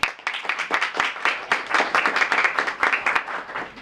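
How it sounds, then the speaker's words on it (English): An audience at a university Model United Nations event applauds in a burst of sharp, dense clapping that stays strong and even through the clip, with distinct individual claps standing out near the microphone. "So please give them a round of applause."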